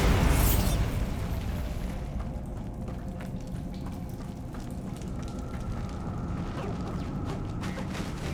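A Bombarda explosion spell goes off in the video game Hogwarts Legacy. A loud burst opens the clip, then a dense crackling, rumbling wash of debris noise carries on steadily to the end.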